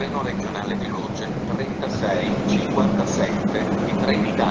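A Trenitalia train rumbles steadily through Conegliano station, Italy, with a continuous broad roar and rattling under an Italian public address announcement.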